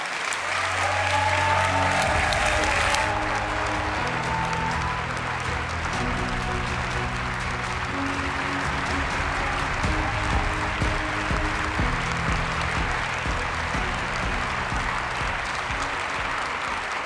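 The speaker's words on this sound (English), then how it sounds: "please welcome with a big round of applause" Sustained applause from a large audience at the EPP Congress in Valencia, steady and loud throughout, with no voices rising above the clapping.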